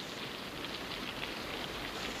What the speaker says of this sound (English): It's pouring, cats and dogs.